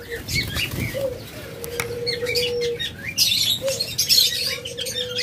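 Pet birds, including lovebirds, budgerigars and cockatiels, chirp and tweet in a continuous busy chorus, with scattered sharp calls and occasional wing flutters close by.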